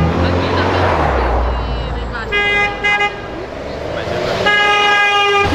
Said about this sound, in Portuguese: a mãe foi buzinando do nada